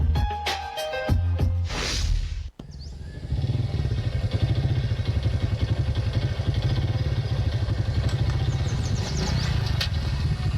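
A motorcycle engine runs steadily at close range, a low pulsing drone that starts after a brief pause and holds loud and even for about eight seconds, with some clatter in the opening moments.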